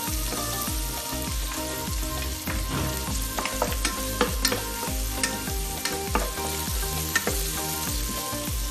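Garlic and green chili fry in a pan for homemade chicken 65, with a close, bright sizzle broken by repeated scraping stir strokes that fall in an uneven rhythm, and no voices.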